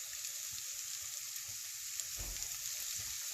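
Ground beef seasoned with salt, smoked paprika and parsley sizzles and crackles in a hot pan, a soft steady fry with a brief louder burst as the meat settles.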